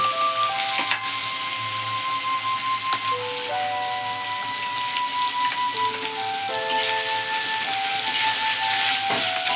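An egg goes into a hot pan of noodles seasoned with salt and sugar, giving a steady close crackling sizzle throughout with a faint tonal melody running underneath.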